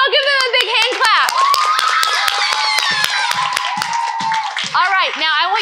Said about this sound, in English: Y'all give them a big hand clap.